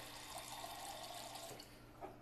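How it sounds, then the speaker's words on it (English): Water runs steadily into a large pan while stuffed artichokes cook. A continuous, moderately loud pour with a slight splashing rise near the end, and no talking. "I'm going to grab a little water because I ran out of broth"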